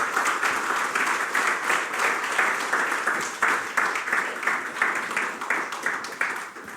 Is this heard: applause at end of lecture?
yes